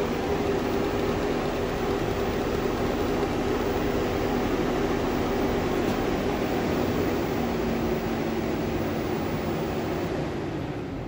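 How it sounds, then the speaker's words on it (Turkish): Steady broadband whir of an air conditioner running continuously, with a constant low hum and no talking. "Şu anda klimamız çalışıyor."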